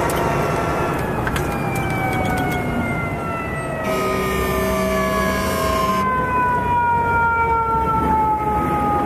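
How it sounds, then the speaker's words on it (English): A fire engine siren wails behind a heavy-haul truck on the road, its falling tones sweeping repeatedly over the loud steady drone of the truck's engine, with no talk. "I see a fire truck behind me"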